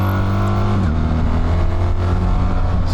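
BMW R1300GS motorcycle with an Italian QD slip-on exhaust and headers accelerating on the road, a loud, steady engine drone close by whose pitch shifts partway through, with no talking over it.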